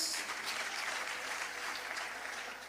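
A church congregation claps in dense, continuous applause from a distance, fairly faint and steady throughout.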